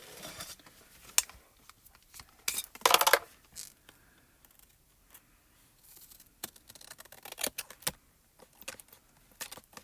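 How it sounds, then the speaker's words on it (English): Big scissors snip through foam tape on a card panel at a crafting desk, several quiet, sharp cuts and rustles scattered through a hushed room, with no voices. "That's what big scissors are for."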